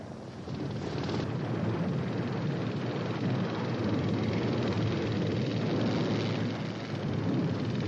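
A Soviet Hind attack helicopter flying, a steady loud roar of engine and rotor wash that holds throughout without a break, with no voices over it.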